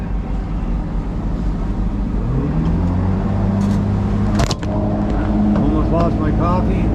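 The engine of a Bayrunner T-top boat runs during a water test, a loud close rumble with a rising tone as it fires up, overlaid by someone speaking.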